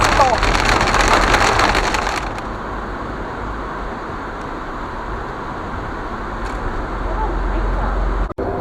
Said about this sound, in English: There's been a huge hailstorm.